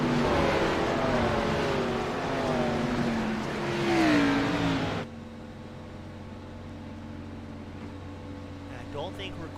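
Race cars in an ARCA Series racing video game at Daytona roar past with rising and falling engine whine that cuts off abruptly, leaving a quieter steady engine hum.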